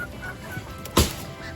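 A small serama chicken carried in a bag lets out one close, short cluck over a quiet background, with faint rustling around it.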